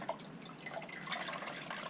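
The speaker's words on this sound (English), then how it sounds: "Squeeze out your towel." Clean, cold water trickles and drips from a towel being squeezed out during a chemical peel treatment, a soft, continuous liquid patter heard close and faint with no talking.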